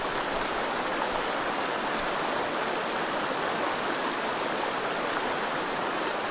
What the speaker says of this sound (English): you guys can see all the lovely waterfalls